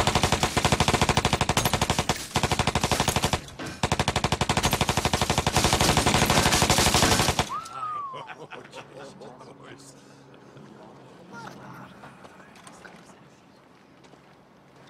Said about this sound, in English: Thompson submachine guns. One of these can finish off an entire platoon in the time it takes to fry an egg.